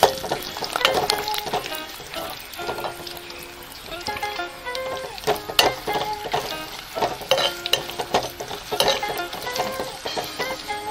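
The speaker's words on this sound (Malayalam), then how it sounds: "ഇഞ്ചിയുടെ പച്ചമണം ഒന്ന് മാറുന്നത് വരെ ഒന്ന് മൂപ്പിച്ചു കൊടുക്കണം." Ginger pieces frying in a pan while lime pickle is made, a steady oil sizzle with stirring clinks and scrapes under a voice speaking.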